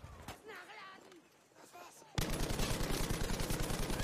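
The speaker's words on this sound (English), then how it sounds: "Maybe what we need is some heavy machine gun fire ourselves." Heavy machine gun fire in Battlefield V, a loud, sustained rapid burst that starts abruptly partway through and hammers steadily to the end, following a stretch of quieter battlefield noise and a voice.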